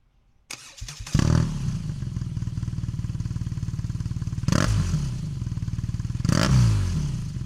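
A motorcycle at a standstill fires up with a sharp bang, then settles into a loud, steady, throbbing idle nearby, broken by two quick throttle blips; no one speaks.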